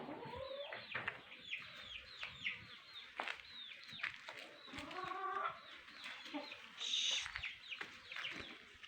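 Hens cluck and chirp continuously close by in a garden, with several birds and chicks calling over one another and a brief higher squawk near the end.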